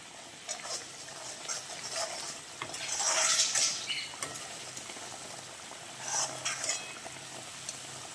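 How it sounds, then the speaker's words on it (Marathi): Potatoes tipped into a pan of masala and stirred with a utensil, giving a soft sizzle with scraping and clinking, louder bursts of frying around the middle and again near the end, no voices. "आता आपण भाजी बघून घेऊया म्हणजे आपला मसाला आता झालेला असेल त्याच्यामध्ये आपण बटाटे टाकून घेऊया"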